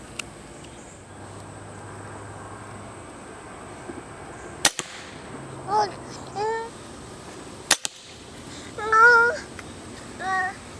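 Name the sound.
gunshots, three-shot group fired one-handed at 10 yards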